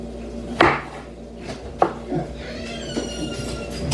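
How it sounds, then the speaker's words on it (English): A knife chops tomatoes on a kitchen board, giving a few sharp, close knocks spaced about a second apart over quiet room noise. "chopping up my tomatoes"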